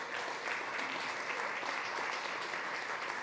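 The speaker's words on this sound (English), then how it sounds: "Please give it a round of applause." An audience at a Food Tank gathering at Barr Mansion during SXSW gives a steady, even round of applause, a continuous wash of clapping with no voices over it.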